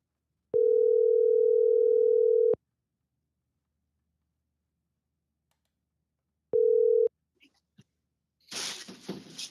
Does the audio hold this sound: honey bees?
no